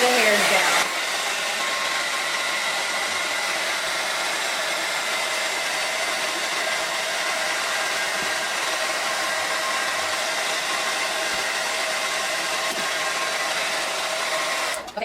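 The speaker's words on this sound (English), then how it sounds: "I'm going to turn this on. By this I mean the blow dryer." A handheld blow dryer runs steadily on its cool setting, a loud, even whooshing hum that starts abruptly and holds for about fifteen seconds before cutting off.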